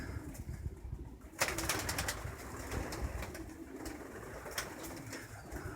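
Quarantined pigeons coo softly and repeatedly nearby, with a brief flutter of wings and faint rustling in the background.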